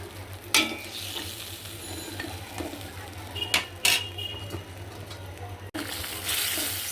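Green beans hit a hot frying pan with bursts of loud sizzle over a steady background hum, followed by several sharp scraping stirs and a final surge of hissing.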